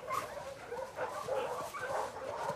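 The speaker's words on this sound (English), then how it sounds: "Hey, you crazy dog." A dog in the video game The Last of Us Part II whimpers and yips excitedly, a series of short, high, whiny vocalizations repeating in quick succession at close range.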